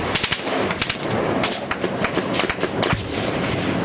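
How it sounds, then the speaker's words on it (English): Rapid gunfire and rocket-propelled grenade blasts hit an outpost during a Taliban attack on U.S. troops, with dense overlapping bursts and sharp cracks in a loud continuous barrage. "Gunfire and rocket-propelled grenades set the outpost on fire."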